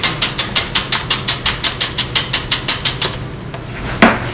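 Egg whites are whipped into meringue by hand in a bowl, about fifteen fast, evenly spaced clacking beats for three seconds, then a pause and one more knock.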